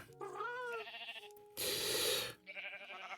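Sheep in Minecraft bleat in several short wavering calls, close and clear, with a burst of brief noisy rustle between them and no talk.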